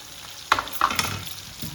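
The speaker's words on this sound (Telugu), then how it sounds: "ఈ ఉల్లిగడ్డలు కొంచెం ఎర్రగా వేగాలన్నమాట బాగా కాదు లైట్గా లైట్గా వేగిన తర్వాత అప్పుడు మనము ఈ మునక్కాయలు వేసుకోవాలి" Onions and drumstick pieces drop into hot oil in a pan, setting off sharp bursts of sizzling with a few scraping stirs, then a settled crackle, heard up close and alone.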